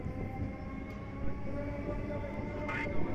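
Steady rumble of a train running along the track, heard from inside a carriage, with a continuous low roar and faint rattles throughout.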